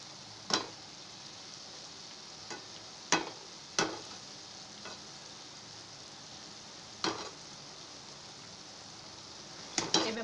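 Instant gulab jamun balls fry in oil toward golden brown, with a soft steady sizzle and occasional sharp clicks of a spoon or ladle against the pan as they are turned.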